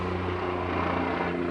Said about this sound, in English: Sorry, his helicopter's going by.